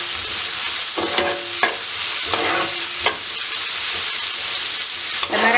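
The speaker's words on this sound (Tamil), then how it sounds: "கொஞ்சம் நேரம் வெங்காயம் நல்லபடியாக வதங்கட்டும்." Onions sauté with salt in a pan for marai pirattal, giving a loud close sizzle broken by several distinct stirring scrapes of a spoon against the pan.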